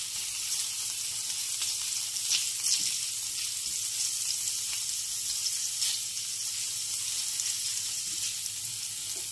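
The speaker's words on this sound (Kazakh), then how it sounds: "Енді осы сарымсағымызды кішкене қорып жібереміз майымызда." Chopped garlic frying in oil gives a steady, bright sizzle with light crackles and occasional stirring, continuous and close, with no speech.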